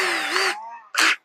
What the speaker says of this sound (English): make sure that you are not drilling in reverse like a dummy, like me